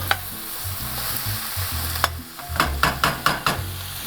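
Lobster shells sizzle loudly as they are stirred into a hot pot for seafood stew. Scraping strokes and clacking shells come in a quick, uneven rhythm over a constant frying hiss, up close and with no voices.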